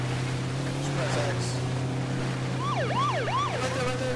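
A wailing police car siren in the video game H1Z1 rises and falls in quick sweeps over a steady engine hum, fairly faint and mixed with game-like background noise.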